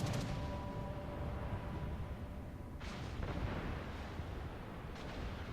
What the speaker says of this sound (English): Rounds coming in from the shore batteries, German 88s.